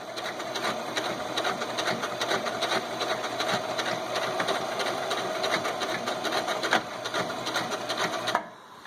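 Sewing machine stitching fabric for a wing harp bag, a steady close mechanical whirr with rapid needle ticking running almost continuously, then stopping abruptly with a final clunk near the end.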